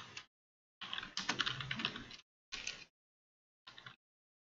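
Bursts of typing on a computer keyboard, quiet and close, with rapid key clicks in four separate runs broken by short pauses.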